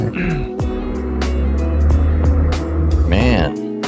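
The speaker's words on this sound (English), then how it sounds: "Man, that's a truck." A heavy truck rumbles past outside during a live podcast recording, a loud low engine drone that swells and fades across the whole stretch, with a brief whine near the end.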